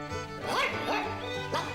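A stray dog in the Toca Life World video game gives a few short, high yips and barks, close and clear over a faint game music bed.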